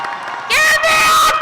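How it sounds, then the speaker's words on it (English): A high school graduation crowd cheers, with a loud burst of shouts and whoops from many voices, close and bright, arriving in two swells. "We would like to give them a round of applause."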